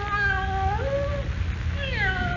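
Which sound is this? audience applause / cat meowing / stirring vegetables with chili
cat meowing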